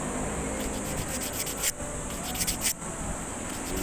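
Steady, close abrasive rubbing of fine 100-grit sandpaper against a metal spark plug, continuous scraping with two brief pauses.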